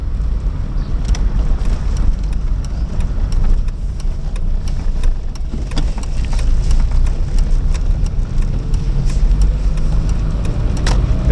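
A 1996 Volvo 440 car rolling over cobbled streets, with a steady broadband cabin rumble and dense, continuous rattling from the road surface throughout, no voices.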